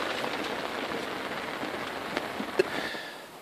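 Heavy rain falls steadily outside, a dense continuous patter with a few sharper drop hits near the end, fairly close and with no voices.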